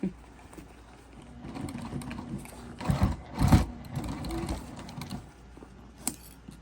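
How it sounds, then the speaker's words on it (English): Sewing machine top stitching along the edge of a crossbody bag, a steady mechanical whir of the needle running slowly, swelling louder in a brief burst midway before easing back down. "And I'm just top stitching right along the edge."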